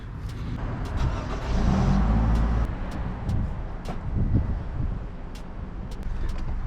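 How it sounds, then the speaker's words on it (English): A Toyota RAV4 engine runs at idle, a steady low rumble with some wind buffeting and a slight swell partway through, heard alone without talk. "Let's go turn the car on and test it."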